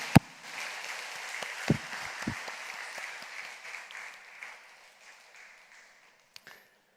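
A church congregation at a New Year's Eve worship service claps together, the applause rising after a few sharp claps, swelling briefly and then thinning out into scattered final claps.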